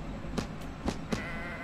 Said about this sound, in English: Nope, those are sheep.